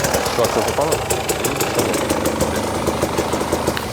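KTM 250cc two-stroke motorcycle engine running steadily nearby for the whole stretch, a buzzy, knocking mechanical drone with voices partly over it.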